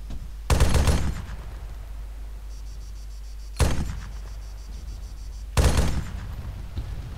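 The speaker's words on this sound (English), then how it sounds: "The M320 long-range rifle is a .408 caliber sniper rifle developed in the U.S." Three loud .408 caliber M320 sniper rifle shots in the ArmA 3 video game, evenly spaced a few seconds apart, each a sharp blast with a short rolling tail over a steady low rumble.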